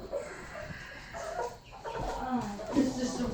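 Chickens and roosters in a rescue in North Camden, New Jersey, clucking and squawking close by in irregular bursts, with people speaking in the background.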